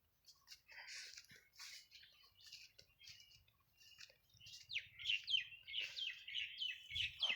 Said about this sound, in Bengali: কুহু কুহু ডাক পাখিদের।